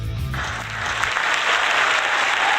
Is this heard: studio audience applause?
yes